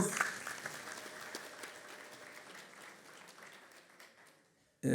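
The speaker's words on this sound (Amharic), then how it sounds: "ጭብጨባው የቀዘቀዘበትን አሁን ተረዳሁኝ።" Scattered applause from a modest crowd at a graduation ceremony, fairly sparse claps that thin out and fade toward the end before a sudden loud noise cuts in.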